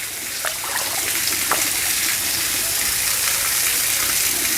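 Water gushes steadily into a container being filled for a pet turtle, a continuous close splashing flow at even loudness with no pauses.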